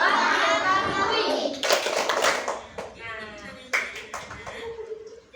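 Children in a classroom perform a rhythmic clap chant, sharp bursts of hand claps punctuating their sung, chanted voices in a repeating pattern.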